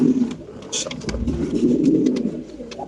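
Silver pigeons coo in soft, repeated murmurs close by, with a steady low background hum throughout.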